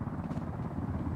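Helicopter rotor drone in the battle-royale video game Ring of Elysium, a steady low thrumming hum held throughout the short stretch at moderate level with no talk over it.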